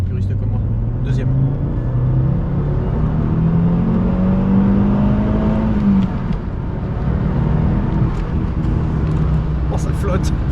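An Audi S2 accelerates in second gear, its engine note climbing steadily in pitch for several seconds before a shift, with continuous road and cabin noise underneath and a voice talking over it.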